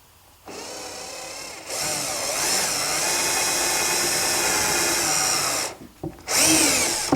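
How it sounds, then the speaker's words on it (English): A power drill whirs up and bores a pilot hole steadily into wood for several seconds, stops briefly, then spins up loudly again at close range. "I'm going to drill my pilot hole."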